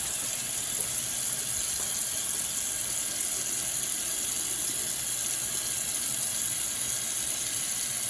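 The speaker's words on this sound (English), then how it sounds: "you know to rinse the sink out when you're rinsing your hands" A running kitchen tap with hands being rinsed under it, a steady, even hiss of flowing water that stays close and constant throughout, with no talk.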